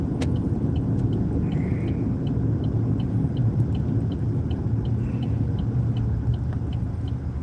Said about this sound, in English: I got a car stopping over here